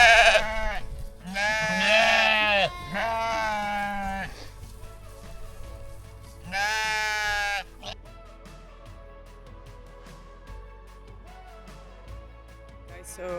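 Several sheep bleat loudly and close by in repeated drawn-out calls while the flock is rounded up, with quieter background farm noise between the calls.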